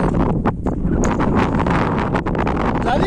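Strong wind on a mountain hike up Punta di Su Guardiano rushes and buffets the microphone steadily, a loud continuous roar with brief gusts.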